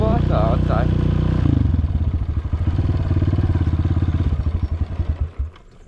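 A small motorcycle engine idles close by in a steady, rhythmic putter after a brief voice at the start, then sputters and dies away into near silence.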